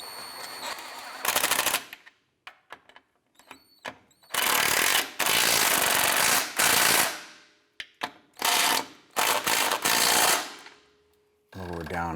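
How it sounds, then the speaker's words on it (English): Transmission mount nuts on a 2004-2008 Acura TL get tightened with a power wrench, loud rattling bursts of varying length separated by short quiet gaps, close by. "Let's go ahead and tighten up these lower nuts here."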